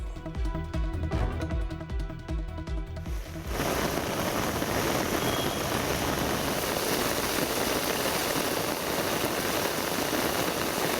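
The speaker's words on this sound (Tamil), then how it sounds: "நீலகிரி மாவட்டம் குன்னூர் சுற்றுவட்டார பகுதியில் பெய்த கனமழையால் மக்களின் இயல்பு வாழ்க்கை பாதிக்கப்பட்டது" Heavy rain pours steadily in the Coonoor area of the Nilgiris district, a loud, dense hiss that holds constant after a short burst of music at the start.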